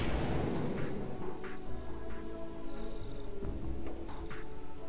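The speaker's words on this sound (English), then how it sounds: "He's not talking, he's just purring." A contented cat purrs steadily and close by, a continuous low rumbling pulse with a few faint rustles over it and no talking.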